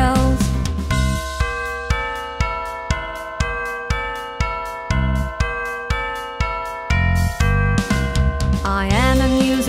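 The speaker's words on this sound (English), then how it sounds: "I play the bells." Bright bell tones ring out a repeating melody in a children's song, struck notes in a steady rhythm with clear overtones, loud and close, with a swell of other instruments toward the end.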